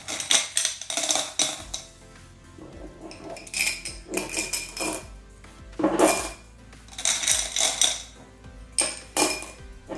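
Glass beads clink and rattle in repeated bursts as handfuls are poured into a glass container for repotting plants, bright and close with short quiet gaps between pours.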